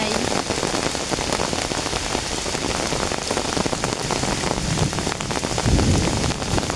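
Heavy rain pours down across a lychee orchard, a dense, loud, unbroken roar of drops hitting leaves and ground, with a brief heavier gust near the end.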